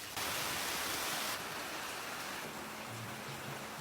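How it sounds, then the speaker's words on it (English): Heavy rain falling outdoors at night, a dense, loud, steady roar of downpour that starts abruptly, eases slightly partway through, then continues with a faint low hum underneath. "It is really raining, so I'm hoping I can find somewhere undercover."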